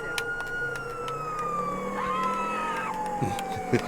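A police car siren in an open-world video game sounds as a steady, slowly falling wail with a brief rising sweep partway through, heard over background game noise and a few clicks.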